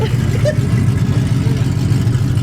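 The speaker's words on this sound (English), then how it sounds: "this dude has a loud ass open exhaust too" A car with a loud open exhaust rumbles steadily nearby, a deep continuous engine drone that holds without pause, while people appear to talk faintly over it.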